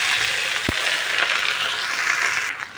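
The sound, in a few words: raw taro leaves frying in a pan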